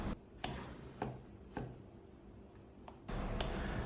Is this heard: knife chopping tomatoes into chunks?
yes